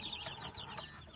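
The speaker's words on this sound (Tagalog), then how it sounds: "Halo po yan, sisyo chicks na manok, tapos ducklings, saka yung pabo." A mixed brood of young chickens, ducklings and turkey poults chirps in a dense, continuous chorus of overlapping high peeps, close by and fairly soft.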